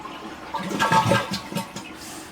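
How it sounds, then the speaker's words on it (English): A small flush from the push-button dual-flush toilet: a brief rush of water that swells and fades over about two seconds, heard close up with no one talking. "this little button here is the small flush"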